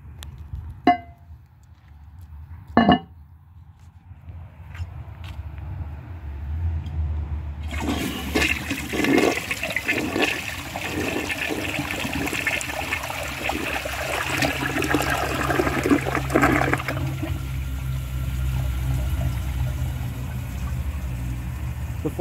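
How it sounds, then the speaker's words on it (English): A 1988 Western Pottery toilet with a metal handle flushes loudly: two sharp handle clicks, then a long rushing, gurgling surge of water lasting about ten seconds before easing into a steady refill hiss, with no voices. "Flush on this is pretty good."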